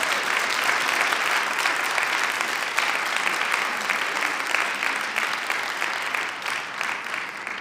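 Steady, sustained applause from a church congregation at a Baptist worship service, dense clapping filling the whole stretch at a loud, even level before tapering slightly at the end.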